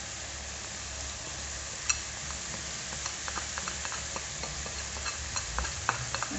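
Chicken frying with spices added while making Surabaya red soup, a steady sizzle with scattered scraping clicks of a utensil stirring the pan, close up and without talk.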